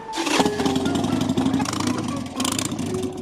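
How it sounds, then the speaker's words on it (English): A Harley-Davidson Sportster motorcycle engine catches and settles into a loud, steady idle with a rhythmic low chug, rising briefly as the throttle is blipped near the end; voices are faintly present in the background. "Well, we got it started, so we're gonna ride it until we can't"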